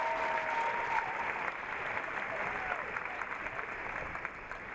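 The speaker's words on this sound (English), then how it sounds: "Keep clapping for him." A university crowd at a creative showcase claps continuously, a steady even wash of hands with a brief whistle-like tone early on and soft crowd noise beneath.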